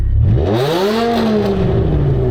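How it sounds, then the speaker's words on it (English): A loud car engine drones inside the cabin, its pitch rising and then falling as it revs and settles, a close steady roar with no talking. "So I decided to sit in my loud ass car."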